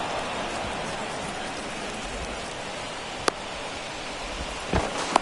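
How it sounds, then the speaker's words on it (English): Steady rain pours over a baseball stadium in MLB 24, a dense, even hiss of falling water with a couple of sharp clicks, and no voices. "the field's not going to be able to hold off if the rain gets any worse than this"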